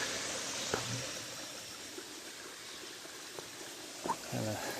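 Water from a waterfall or stream swollen after heavy rain rushes in a steady broadband wash, moderately distant, with a few faint bumps and brief voice-like sounds on top.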